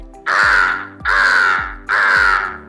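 A voice imitates a crow, giving three loud, harsh caws in a steady rhythm, close up, over a repeating thumping beat.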